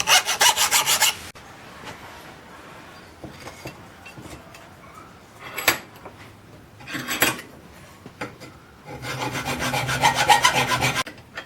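Hand-cutting material with a saw or rasp during a 1969 XW Ford Falcon restoration, with loud bursts of rough rasping strokes at the start and end and quieter scraping and rubbing in between, close and without talk.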